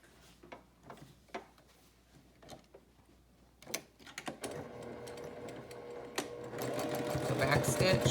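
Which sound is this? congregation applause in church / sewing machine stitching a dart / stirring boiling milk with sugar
sewing machine stitching a dart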